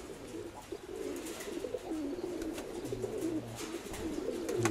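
Young pigeons coo softly, a low continuous burbling murmur with short repeated coo phrases, heard at moderate distance over steady background noise.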